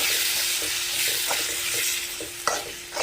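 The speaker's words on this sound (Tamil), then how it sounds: "தக்காளி வெங்காயம் நல்லா வதங்கி சைடில் லைட்டாக எண்ணெய் பிரிஞ்சு வர ஆரம்பிச்சிருச்சு" Tomatoes and onions sautéing with masala in oil for a spicy South Indian brinjal gravy, giving a steady close sizzle broken by periodic scraping stirs, with no talking.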